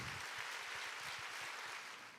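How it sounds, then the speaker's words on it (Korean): A church congregation at a winter revival meeting applauds, a dense, even wash of clapping heard from a distance that stays fairly faint and tapers off at the end. "우리 하나님께 감사와 영광의 박수 올려드리겠습니다"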